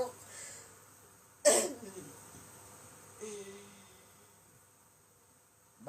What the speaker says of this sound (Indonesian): Batuk. Batuk lain.